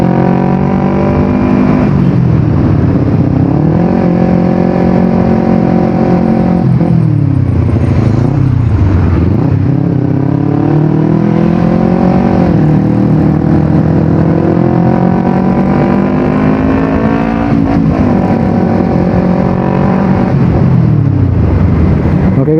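A Kawasaki Ninja 250 FI motorcycle engine hums loudly and steadily as the bike is ridden, its pitch rising and falling through repeated gear changes and throttle swells with no voices over it.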